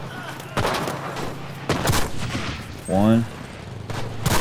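Gunshots in the World War II shooter Enlisted: several sharp, loud reports spaced a second or so apart, with someone talking briefly between them.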